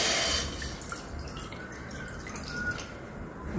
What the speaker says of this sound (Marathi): भांड घेतलेले, त्यात आपण हे पाणी घेतले, ते पाणी टाकू